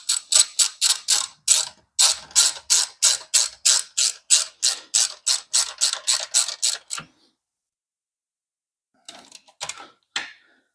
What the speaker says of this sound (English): When tightening the bolts, just ensure that they don't protrude through too far and touch the swing arm itself.